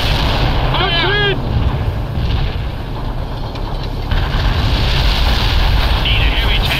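Tank cannon fire in the World in Conflict Soviet Assault war game, heavy booming blasts amid constant battlefield rumble and engine noise, with radio-style voices chattering over the mix.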